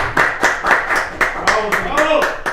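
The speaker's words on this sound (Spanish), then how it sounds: "¿Qué pasa si lo despedimos con un fuerte aplauso?" Steady rhythmic clapping from a small group, about a dozen evenly spaced claps, close and fairly loud, with a voice talking over it.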